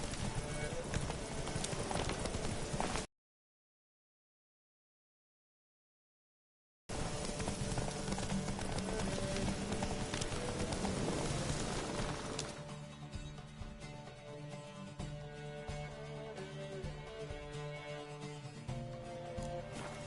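Roach, the horse in The Witcher 3, gallops with rapid rhythmic hoofbeats under game music, then cuts out briefly before the clip-clop resumes, driving and loud, with a voice over it.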